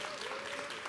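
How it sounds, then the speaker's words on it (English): A brief stretch of steady crowd applause, many hands clapping together at once, at a Juneteenth town hall and celebration. "One more hand of applause"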